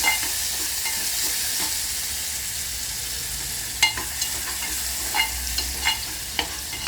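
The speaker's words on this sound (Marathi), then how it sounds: "कांदा भाजतानाच आपण यामध्ये अद्रक म्हणजे लसूण परत जिरं मोहरी हे सगळं त्यामध्ये टाकत आहे ॲड करत आहोत आणि ते पण भाजून घेत आहोत" Chopped onion frying with ginger, garlic, cumin and mustard seeds for a quick toor and moong dal, a close, steady sizzle with faint crackles and a few scraping stirs of a spoon against the pan.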